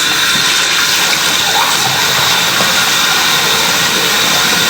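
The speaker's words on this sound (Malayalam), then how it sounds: "രാവിലെ ജസ്റ്റ് എണീച്ച് ഫസ്റ്റ് ഒന്ന് മുഖം കഴുകാം." Cold tap water running steadily for washing the face, a loud, continuous rushing hiss with no breaks, close to the listener and with no talking.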